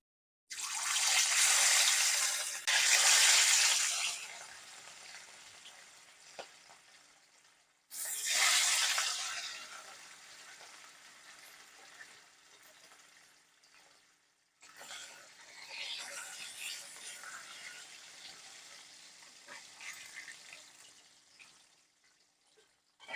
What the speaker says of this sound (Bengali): তেল গরম হয়ে গেছে এবারে আমি মাছগুলো ভেজে নেবো